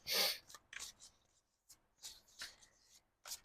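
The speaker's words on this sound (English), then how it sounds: "So I'm just going to give a quick shuffle here and pull a card" Tarot cards being shuffled by hand in quick, papery riffling bursts, close and fairly quiet, with brief pauses between the shuffles.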